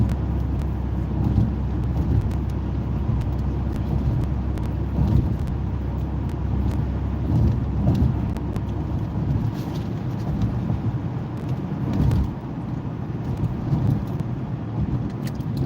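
A big-body Chevrolet Impala cruises at about 45 mph on a 50 mph road in bad weather, its steady low engine and tyre rumble close and continuous, with some wind buffeting and no talk.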